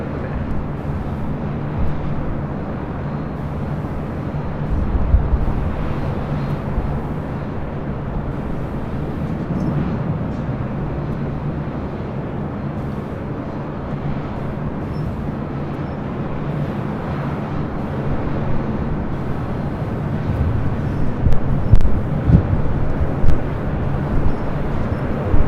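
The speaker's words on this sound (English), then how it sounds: "So just had a FedEx 767-300 freighter. Touchdown 25 left." A FedEx Boeing 767-300 freighter lands on runway 25 left at LAX, heard as a continuous far-off jet rumble that swells slightly near the end.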